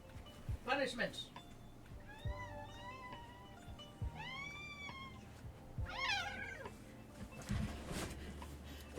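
A pet cat meows several times indoors, each a rising then falling call spaced a second or two apart, fairly close, with quiet clunks and a soft voice in between.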